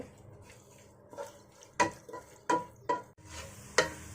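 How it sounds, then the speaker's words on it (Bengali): Sliced onion is stirred and fried down into crisp birista for kacchi biryani, with quiet frying beneath a few irregular, sharp scrapes and clinks from the spatula against the pan. "এই পেঁয়াজটাকে বেরেস্তা করে নিব"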